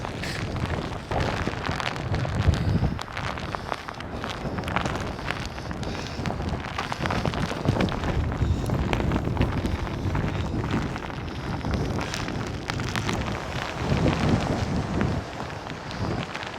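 Strong gusty wind with rain at Hurricane Ridge in Olympic National Park, Washington, roaring continuously and buffeting the microphone with heavy rumbling noise throughout.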